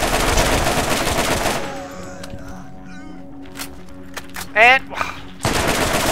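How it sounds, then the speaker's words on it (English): Enemy gunfire in the Borderlands video game, a burst of rapid shots and loud game noise at the start and end, with quieter game sounds and a short voice between. "More people shooting at me."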